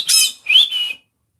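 A pet bird squawks twice at close range, a harsh, shrill call followed by a rising whistled screech, loud and alone before the room falls silent.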